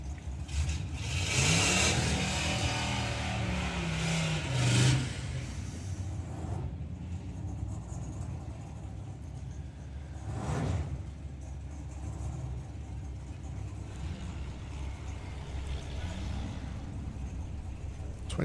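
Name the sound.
four-cylinder drag racing car accelerating down the strip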